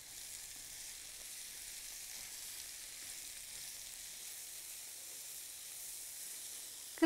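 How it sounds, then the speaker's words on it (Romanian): Bell peppers and onion softening in hot fat in a Tefal frying pan, giving a steady, faint, even sizzle with no talking. "Iar în aceeași grăsime voi pune ardeii și ceapa și voi lăsa legumele să se înmoaie pentru aproximativ 4-5 minute."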